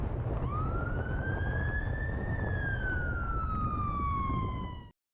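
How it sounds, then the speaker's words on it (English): A fire engine siren wails loudly and steadily for about five seconds, its tone sweeping up and then slowly down as the vehicle approaches on the road. The siren stands alone over low rumbling traffic and wind noise before cutting off abruptly. "the sirens can already be heard, and as the fire engine approaches, they come on again"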